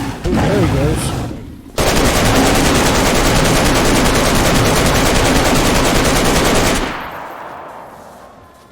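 Sustained automatic gunfire in DayZ aimed at a bloodsucker, a dense, loud burst of rapid shots lasting several seconds and then cutting off, with a brief voice at the start.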